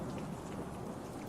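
Steady dense rain pours across the whole stretch, a soft continuous hiss with a faint low rumble of thunder beneath it, even and unbroken.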